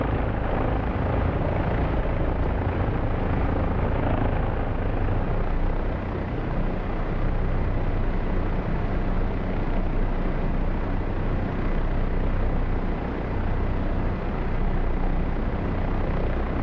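An OH-58 Kiowa helicopter flies in the DCS simulator, its engine and rotor a loud, dense, continuous roar with a steady broadband rumble from start to finish.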